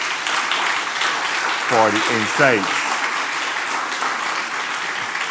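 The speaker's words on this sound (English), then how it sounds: "Surely this panel deserves another round of applause" A conference audience applauds a panel on ending gender inequality, a broad wash of clapping running the whole time while someone speaks briefly over it.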